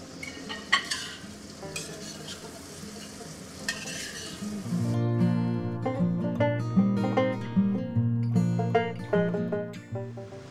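Mixed vegetables tipped into cooked masala and stirred in a frying kadai for veg handi, with a soft sizzle and scraping strokes early on, then tonal background music rising over the cooking noise.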